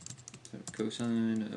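Computer keyboard keys tapped in a quick run of light clicks while a person enters a function on a graphing calculator setup, then speech takes over and the typing fades under the voice.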